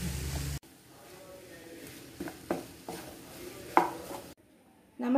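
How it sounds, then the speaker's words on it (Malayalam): Stirring and mashing potato and onion in a pan for homemade chicken cutlet, heard as soft scraping and a few sharp utensil knocks against the pan, with quiet gaps and a louder burst at the start and end. "ഈ പൊട്ടറ്റയും സവാളയും കൂടി കുറച്ച് നേരം ഇതിനകത്തിട്ട് നന്നായിട്ട് ഇളക്കി യോജിപ്പിക്കുക"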